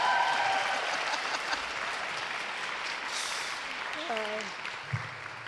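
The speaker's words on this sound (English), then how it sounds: "Can I get a round of applause for that?" An audience at an in-person women's awards celebration breaks into sustained applause, a broad steady clatter of clapping that fades slightly, with a few voices audible beneath it.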